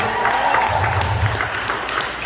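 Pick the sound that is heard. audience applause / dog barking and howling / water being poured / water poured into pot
audience applause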